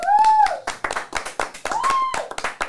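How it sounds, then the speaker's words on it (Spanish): A small group claps by hand in a quick, uneven burst of sharp claps for Gonzalo, with a voice calling out briefly over them. "Un aplauso a Gonzalo. Un aplausito."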